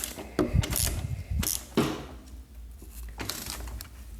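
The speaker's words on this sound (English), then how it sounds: "I'm gonna be using a ratchet on this side and a ratchet on the other side" A ratchet wrench tightens a bolt on a Kawasaki ZX10R motorcycle, giving a few short bursts of clicking and rubbing separated by pauses, close and moderately loud.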